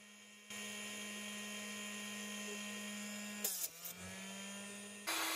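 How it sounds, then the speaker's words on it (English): An electric drill spins a small brass casing trimmer for 300 Blackout cases, a steady high-pitched motor whine with a strong hum, briefly pausing and revving down before starting again, loud and close. "what's in that drill is the little trimmer"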